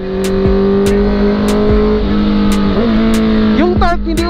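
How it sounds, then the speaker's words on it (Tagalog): A Honda CB650R motorcycle engine hums steadily, then rises and falls in pitch as it revs through downshifts, loud and close with a faint wind-like hiss over it. "Ayun o, lalo pag nag-downshift ako"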